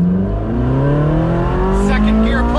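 A Porsche 911 GT3 accelerates hard, its engine note climbing steadily through second gear and on into third, loud and close from inside the car.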